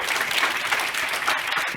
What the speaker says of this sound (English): Can we give them a round of applause because they really did well?